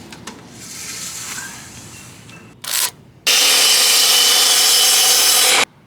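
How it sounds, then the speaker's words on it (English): Short scraping bursts, then a loud miter saw whines steadily through wooden boards for a couple of seconds before cutting off abruptly. "I'm gonna go ahead and start cutting some of the boards that I need for the other part."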